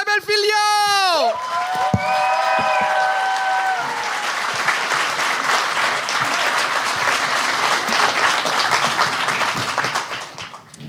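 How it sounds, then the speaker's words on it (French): A studio audience on a televised gong show breaks into loud, sustained applause and cheering as a guest is introduced, following a short burst of musical fanfare at the start, the clapping filling the room and fading near the end. "un tonnerre d'applaudissements pour Véronique Isabelle Filion!"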